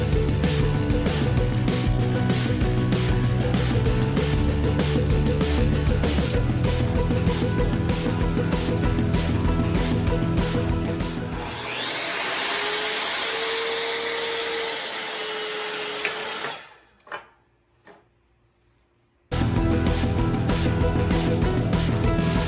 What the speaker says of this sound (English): I'll be using this miter saw to help me cut up all these planks